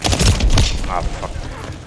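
Gunfire from a Call of Duty: Modern Warfare 3 firefight, a dense burst of loud, close shots and booms early on that thins into scattered cracks, with voice chatter mixed in.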